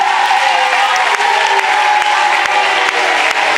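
A church congregation claps together in a sustained burst of dense, loud applause, mixed with faint crowd voices throughout the few seconds.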